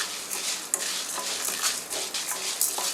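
Beetroot with chana dal and peanuts fries in a pan under a soft, steady sizzle, punctuated by sharp clicks and scrapes of a spoon stirring against the metal.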